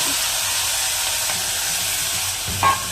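Cowpeas and potatoes added to a hot oiled pan for a Gujarati vegetable dish, giving a steady close sizzle and hiss throughout, with a brief stirring scrape near the end.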